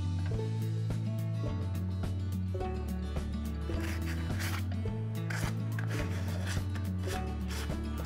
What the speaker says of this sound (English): It just makes it so much easier to sand, and it gives a true chippy kind of effect.